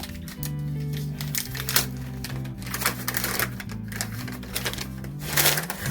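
Wax paper wrapping crinkles and rustles steadily while a Donner DST550 electric guitar is unwrapped, a dense run of papery crackles with a few sharper bursts and a low steady hum underneath.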